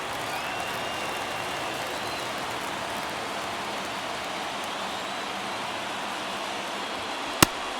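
A stadium crowd murmurs steadily in an MLB baseball video game, a dense, even hiss of many voices at moderate level, broken near the end by one sharp crack.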